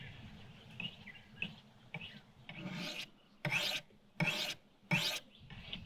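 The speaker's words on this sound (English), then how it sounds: "I might just sharpen it on the window" Knife blade being sharpened on a car window, rhythmic rasping strokes, first softer and then four louder, evenly spaced scrapes, close and fairly quiet.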